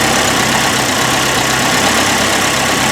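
A 1981 Alfa Romeo Spider Veloce engine idles steadily at around 1,000 RPM, a loud, continuous, close-up mechanical rumble with no voices.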